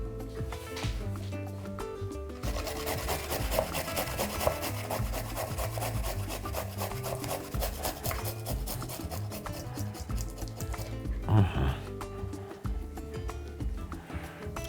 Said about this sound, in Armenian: Բացի կոճապղպեղից քերում ենք նաև սխտոր